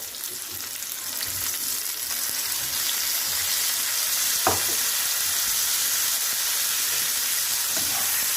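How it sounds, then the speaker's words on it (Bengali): Chopped onions and ripe red tomatoes fry in a pan for an egg curry, giving a steady close sizzle with a brief clatter of stirring partway through and no talking. "পেঁয়াজগুলো ভাজা হচ্ছে।"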